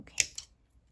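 Scissors snip through leather for a keyring craft piece, two quick close cuts in a quiet room, each a short crisp crunch followed by silence.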